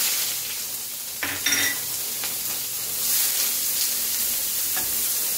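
Sliced onions drop into hot oil in a kadai for beef cutlets and sizzle loudly up close, with scraping stir strokes and bursts of spitting over a steady frying hiss.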